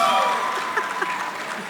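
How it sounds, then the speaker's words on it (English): Crowd noise at an awards ceremony, a steady wash of applause and cheering from a lively audience that runs through the whole stretch, with a few scattered brighter shouts rising above it. "That's a wild crowd over there"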